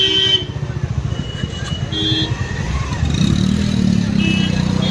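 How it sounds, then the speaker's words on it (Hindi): Road traffic in a jam in Ramnagar, Uttarakhand: idling and slowly moving engines rumble close by, with scattered car horns tooting and a motorcycle engine rising near the end. "सब अपनी गाड़ी बैक कर रहे हैं, क्योंकि उनको पता चल गया यहाँ जाम लगा है"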